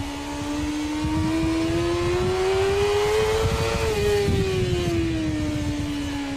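A motorcycle engine drones steadily while ridden, its pitch climbing smoothly as the bike accelerates, then easing down again, loud and sustained throughout.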